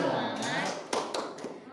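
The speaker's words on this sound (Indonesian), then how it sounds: "Tepuk semangat" First-grade pupils in a classroom beat out a rhythmic clapping cheer, a handful of crisp claps in an uneven pattern, with voices speaking over them.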